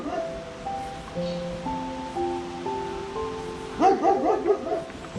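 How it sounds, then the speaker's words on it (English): A dog barks in a quick run of yaps near the end, preceded by soft sustained tones and background noise. "How is she supposed to make friends if he keeps barking like that?"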